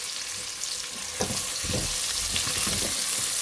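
Chopped onions hit hot oil in a pan for dhaba-style maash dal and fry with a steady, loud hiss, broken by a few scraping stirs partway through, close up and with no talk.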